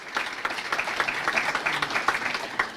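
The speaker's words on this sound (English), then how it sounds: "All right, let's have a round of applause for North Central." A small room audience at a county candidate forum claps for a participant, a modest, slightly uneven round of individual hand claps that stays fairly quiet and steady.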